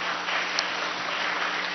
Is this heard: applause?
yes